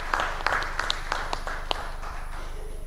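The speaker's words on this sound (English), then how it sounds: "So a round of applause to the three organizing partners" A conference audience at an East Africa waste conference claps for the organizing partners, scattered sharp claps rising above a low hum, fairly faint and thinning out toward the end.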